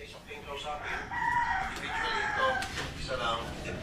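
A rooster crows close by, with harmonic calls repeating over several seconds while people talk nearby.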